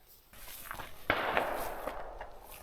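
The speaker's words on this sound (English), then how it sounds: "Yeah, that was a gunshot." A distant gunshot from hunters in the woods near an abandoned campground by Earthquake Lake, a single sharp crack with a short rolling echo, followed by quieter rustling.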